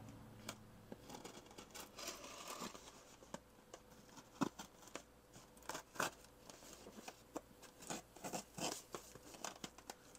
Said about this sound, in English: I'm just cutting the tape along the top here